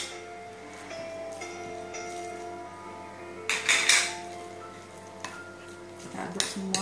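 Garlic and ginger stirred in a frying pan with a faint sizzle underneath, soft scraping sweeps and a few louder utensil knocks against the pan over a constant low hum.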